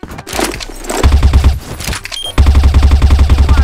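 Video game M4 rifle fire arrives in loud, rapid automatic bursts, one short volley, then a brief pause, then a longer sustained string of closely spaced shots, all close and punchy.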